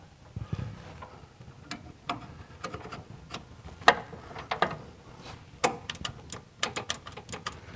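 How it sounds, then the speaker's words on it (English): A ratchet wrench turns while working on a 1974 VW Super Beetle engine, with sparse, irregular sharp clicks at close range over a low background hum. "Wrench, ratchet."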